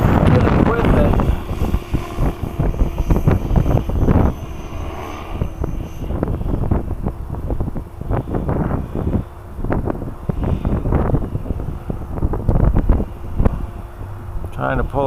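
A radio-controlled 550-size helicopter flies in strong wind, its motor and rotor drone steady and fairly close under heavy buffeting wind noise, with someone talking over it.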